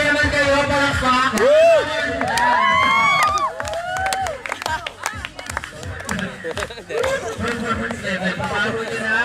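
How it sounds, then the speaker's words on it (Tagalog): A crowd at a Christmas party cheers and claps, with bursts of whoops and scattered handclaps over busy chatter and people talking nearby, loud at first and then thinning into uneven clapping. "Cheer naman kayo, palakpak."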